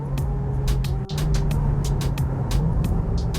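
A Porsche sports car engine drones steadily with a low hum while sharp rhythmic ticks and thumps pass over it, recorded from inside or close to the moving vehicle.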